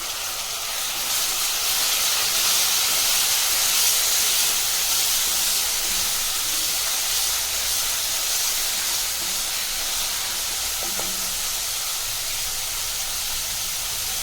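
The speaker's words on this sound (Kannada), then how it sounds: "ಫ್ರೈ ಆಗೋಷ್ಟೊತ್ತಿಗೆ ನಾನು ಸ್ವಲ್ಪ ಟೊಮೊಟೊ ಕೂಡ ಸೇರಿಸ್ಕೊತಾ ಇದ್ದೀನಿ." Tomato frying in a pan with cashews gives a loud, continuous sizzling hiss that stays even from start to finish, with no voices.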